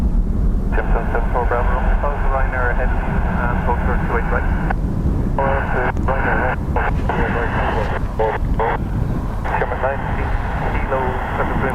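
Aircraft at Dublin Airport produce a loud, steady roar of engine noise. Radio-like speech and talk are heard over it throughout.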